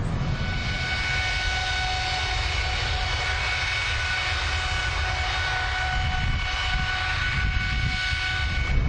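Boeing aircraft engine accelerating during a ground engine test, a loud, steady roar with high whining tones that fills the whole stretch, no voices heard.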